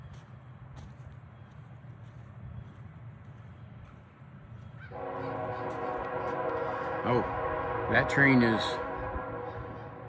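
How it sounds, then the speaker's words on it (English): A CN Railroad train heading to the harbor rumbles at a distance, swelling into a droning, tonal roar with a squeal near the end, while a person speaks briefly. "that is our train that goes into the harbor,"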